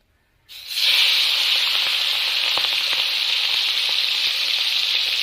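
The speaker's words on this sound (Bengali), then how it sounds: "এবার আমি হলুদ লবণ মাখানো চিংড়ি মাছটা ভালো করে লালচে করে ভেজে নেব।" Prawns rubbed with turmeric and salt hit a pan of generous hot oil and burst into a loud, steady, close-up sizzle that holds evenly from just after the start to the end, with faint scraping under it.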